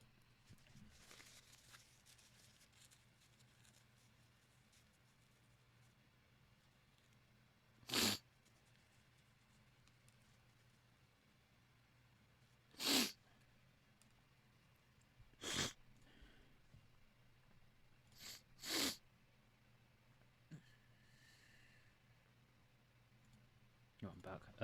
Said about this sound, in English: I'm just gonna blow my nose out.